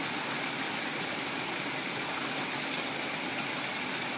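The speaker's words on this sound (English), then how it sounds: "After smashing this, I will soak this inside the water like this." River water rushing steadily where smashed bark is soaked in a jungle stream in Nagaland, a continuous broadband flowing hiss with no talk.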